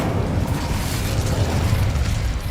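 A fiery Incendio spell cast in Hogwarts Legacy, a dense roaring burst of flame that holds steady and loud for the whole moment, with a low rumbling body and no voice over it.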